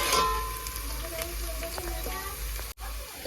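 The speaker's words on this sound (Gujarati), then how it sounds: "આ ડુંગળીને પેલા ફ્રાય થવા દેવી પડે" Chopped onions frying in oil in a pan for a Gujarati Maggi rice dish, giving a steady close sizzle with light stirring scrapes and a brief clunk near the end.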